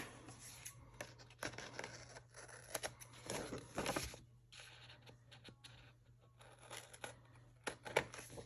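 Scissors cutting paper for a Happy Planner, quiet close snips and rustling paper in irregular bursts, with a faint steady hum underneath.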